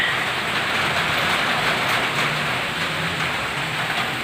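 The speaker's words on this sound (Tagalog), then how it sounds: "So, ayan na guys, umulan na." Steady rain pours over a resort swimming pool, a dense, even hiss of drops hitting water and surrounding surfaces, continuous and fairly loud with no pauses.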